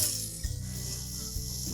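A screwdriver ratchets as it backs out screws holding the inlet duct assembly of a Samsung dryer, with soft clicking turns and a couple of louder knocks, close and quiet.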